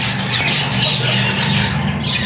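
A black-beaked pet parrot gives a loud, harsh squawk close by, one continuous raspy call lasting about two seconds with no talk.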